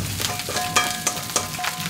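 Cooked rice tipped into a hot wok with golden fried scallops for egg fried rice, a soft crackling sizzle with a few sharp clinks and scrapes, close and steady with no voices.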